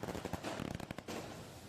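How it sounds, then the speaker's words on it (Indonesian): Residents setting off celebratory fireworks at night, a quick crackling burst of rapid pops and bangs in a dense cluster, faint and distant, followed by a short lingering rumble. "ini rasa syukur kita menyalakan kembang api malam ini ya"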